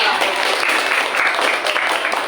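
A classroom of students applauds after a group presentation, a dense, even burst of clapping that holds steady throughout.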